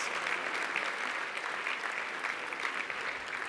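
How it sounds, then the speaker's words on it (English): An awards-night audience gives steady, even applause after a choir's performance, a thick continuous roar of many hands clapping at once, loud and sustained throughout. "Another round of applause for them, please."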